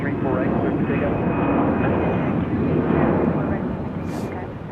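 An airliner taking off from runway 34 right at Salt Lake City airport, a loud continuous broadband engine roar that holds steady and swells slightly.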